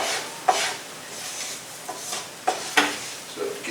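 Ground beef mixture stirred in a pan for stroganoff: a handful of close scraping strokes of a utensil against the pan over a soft sizzle.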